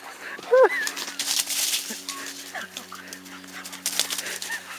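A dog gives a short, high yelp and soft whines nearby while people talk over it.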